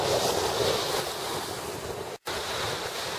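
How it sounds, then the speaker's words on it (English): Waves break and wash continuously on Huron Beach, a broad roar of surf mixed with wind buffeting the microphone, steady and loud throughout apart from a brief dropout near the end. "Check out that wave action."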